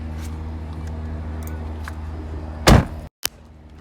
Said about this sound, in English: for an expensive car, when you close the door, it just doesn't sound good